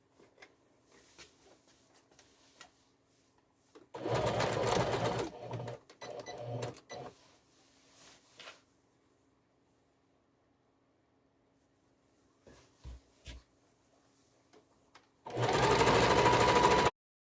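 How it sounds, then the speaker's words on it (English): A sewing machine zigzag stitching fabric for a tote bag runs in loud, close bursts of rapid mechanical whirring, separated by quiet pauses with faint handling clicks and distant birds. "my sewing machine on the zigzag function, and I am going to zigzag the two cases together at the top"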